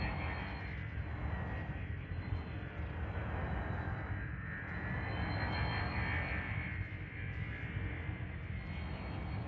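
A spaceship flies through checkpoints around an orbital structure in the video game Elite: Dangerous, a loud steady engine roar with slow swelling surges, close and continuous with no talking.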